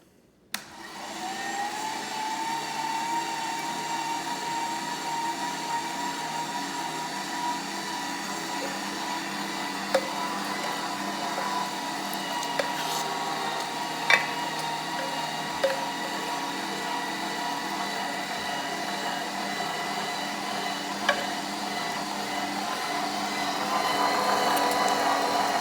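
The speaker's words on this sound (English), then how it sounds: "so I'm at the grinder, and I'm going to put this on a fine grind." Meat grinder on a fine plate running for an onion sausage spread, a steady droning motor hum with occasional small clicks and knocks, no voices.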